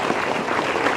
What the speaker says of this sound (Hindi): अरे जोरदार ताली बजा लीजिए यार